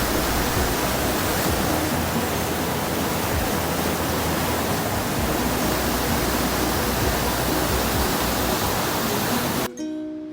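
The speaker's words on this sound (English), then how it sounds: "This is Mandakini river, and look at the waves." Fast-flowing Mandakini river near the Kedarnath temple, a dense, steady roar of rushing water that fills the whole clip loudly and evenly, with no voices over it.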